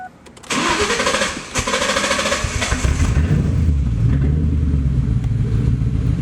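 A 2002 Ford Mustang GT V8 cranks briefly and catches, then settles into a loud, steady rumbling idle close to the microphone, with no talking.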